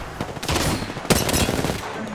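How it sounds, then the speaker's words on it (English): Rapid gunfire in a battle-royale video game, loud repeated shots in bursts with a sharp blast near the middle, no talking over it. "Opening fire."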